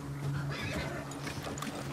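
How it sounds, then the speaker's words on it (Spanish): A nervous horse in the snowy world of The Last of Us Part II whinnies and neighs close by, with clip-clop hooves and restless movement filling two seconds. "Uf, está el caballo muy nervioso, ¿eh?"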